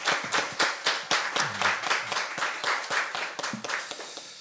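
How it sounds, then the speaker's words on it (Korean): A church congregation at Sunday worship claps together, with crisp repeated hand claps in a loose, fairly rhythmic pattern, moderately close, and a faint voice briefly underneath. "우리 하나님께 영광의 박수 올려드리겠습니다."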